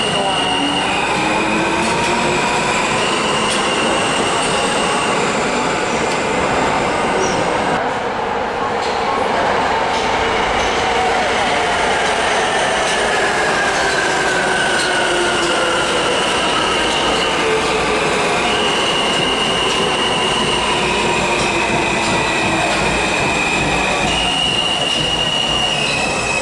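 A New York City subway train roars past close by, its wheels squealing loudly and steadily against the rails for the whole stretch, with faint voices under the din.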